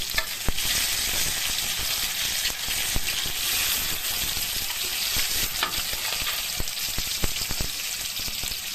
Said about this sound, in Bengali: এবার অল্প একটু কালো জিরে দিয়ে দেবো কয়েকটা চেরা কাঁচা লঙ্কা